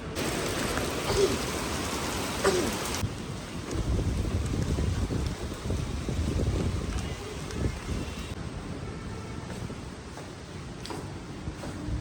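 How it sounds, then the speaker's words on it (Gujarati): Steady rain falls continuously, a dense broadband hiss with some wind noise mixed in, loud and unbroken throughout. "આજે વરસાદ ફૂલ પડે છે તો નાઈ લઈએ."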